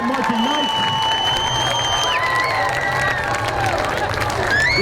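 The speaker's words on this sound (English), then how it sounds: "one more round of applause, not only for our seniors, but for the entire North Penn Marching Knights" Applause and cheering for a high school marching band at a community night, a crowd clapping and shouting throughout while an announcer's amplified voice speaks over it.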